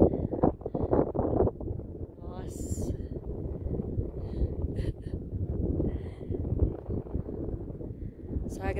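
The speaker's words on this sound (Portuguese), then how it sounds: "E ventando muito." Strong wind roars across a high mountain pass on Argentina's Ruta 40 toward Abra del Acay, a continuous rough buffeting on the microphone that runs the whole time, with faint voices under it.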